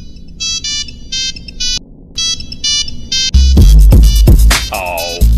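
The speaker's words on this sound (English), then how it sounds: "Still using a polyphonic ringtone, are we?" A polyphonic mobile phone ringtone plays in the VR game Find My Mobile, a loud bright repeating melody of short electronic notes, then a sudden louder burst of music with heavy bass.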